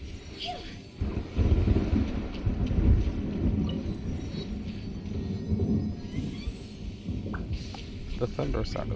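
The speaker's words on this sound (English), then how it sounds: "The thunder sound is pretty cool." Deep thunder rolls and rumbles through a stormy video game island scene with rain and wind, sustained and fairly loud throughout, with a voice talking over it.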